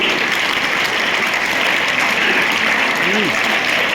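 Children clap together in a steady, dense patter at a Dr. B. R. Ambedkar Mahaparinirvan Diwas observance, with a voice speaking faintly over the applause.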